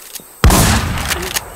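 A single loud sniper rifle shot booms close by in the video game Infestation, with a sharp attack and a ringing tail over quiet background.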